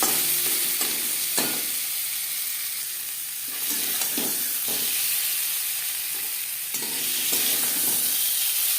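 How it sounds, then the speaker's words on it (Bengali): Boiled potatoes fry in hot oil in a kadai for a chicken curry, giving a steady close sizzle broken by repeated scraping stirs, with no talking. "আলু ভেজে নেওয়ার পর একটা পাত্রে উঠিয়ে নেব।"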